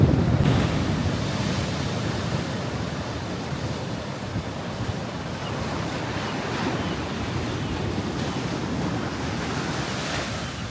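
Ocean waves crashing along the rugged, uninhabited Big Sur coast of California, a continuous loud roar of surf and spray with heavy wind buffeting the microphone throughout.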